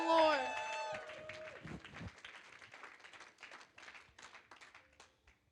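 A church congregation at an end-of-year thanksgiving service bursts into loud applause and cheering praising the Lord, starting with a sung or shouted note, then settling into dense clapping and crowd noise that fades toward the end.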